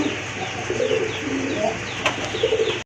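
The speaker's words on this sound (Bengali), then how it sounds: "মাশাল্লাহ, খুবই চমৎকার এক জোড়া কবুতর, রেসার কবুতর" A pair of racer pigeons coo softly and repeatedly, close by, over a steady background hum, with no talk.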